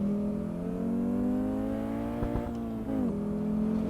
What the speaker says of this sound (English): The hum of the engine doesn't just scream to me.